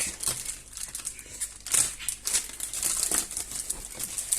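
Packaging crinkles and tears as a parcel box holding a Liectroux B6009 robot vacuum cleaner is opened by hand. The crisp rustling comes in close, uneven bursts, with no talk.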